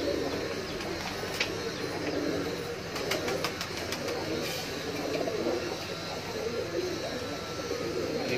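Pigeons cooing in a loft of high-flying kaldumme pigeons, soft repeated coos and light calls spread across a steady murmur, close and moderately loud throughout.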